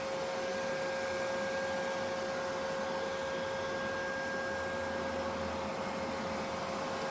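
A Neato D85 robot vacuum runs in a furnished home, giving a steady, even motor whir with a constant fan hum and faint tones, unbroken for the whole stretch with no talking.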